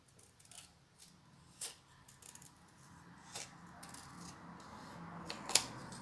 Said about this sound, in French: où je fais sur un papier blanc que je découpe et je viens le mettre comme ça